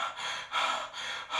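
A teacher's voice imitating a boy panting: four quick, breathy gasps in a steady rhythm, close and fairly soft.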